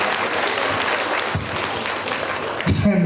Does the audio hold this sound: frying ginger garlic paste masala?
no